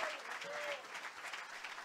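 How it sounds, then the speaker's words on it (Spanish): A church congregation claps together in steady, dense applause that carries on throughout, moderately loud with no pauses. "A ver, un aplauso a Jesús."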